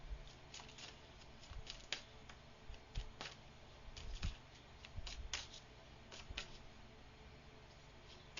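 Soft papery riffling and snapping of tarot cards being shuffled, in irregular bursts with brief pauses, close and fairly quiet.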